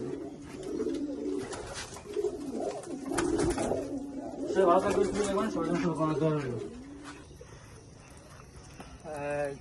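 Pigeons coo and flutter nearby in their loft, their low warbling calls overlapping with people talking in the background.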